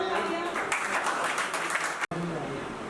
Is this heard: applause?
yes